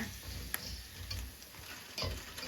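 Chicken feet fry in hot oil, heard from a distance as a faint steady sizzle with occasional sharp pops and spatters.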